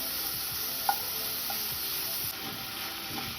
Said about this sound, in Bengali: এরকমই হালকা ফ্লেমে, মিডিয়াম ফ্লেমে আমি চিকেনটাকে নেড়ে চিকেনটাকে ভেজে নেব